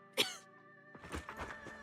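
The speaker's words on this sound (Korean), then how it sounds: "심하게 기침을 하기 시작했다" A video game character in Zenless Zone Zero coughs, first one sharp cough, then after a short pause a rapid string of rough, shaky coughs.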